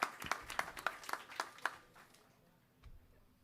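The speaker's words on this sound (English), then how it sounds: "big round of applause for Hacking with Swift" A small, sparse round of clapping at a live tech gathering near WWDC, a handful of distinct, fairly quiet hand claps in an uneven rhythm that stop after about two seconds, leaving near silence.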